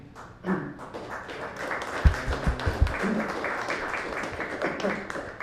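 Applause from the audience at a medal of freedom awards ceremony rises under a speaker's voice, with a few thumps and taps near the microphone.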